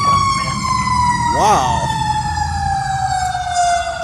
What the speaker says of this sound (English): an ambulance and a fire truck.